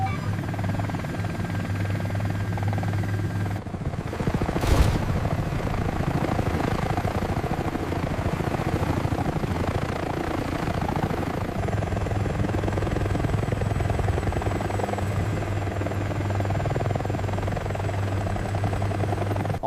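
A helicopter in a LEGO City toy scene hovers and lands on a roof, a steady whirring rotor drone running throughout, loud and close, with faint voices and a brief sharp knock partway through.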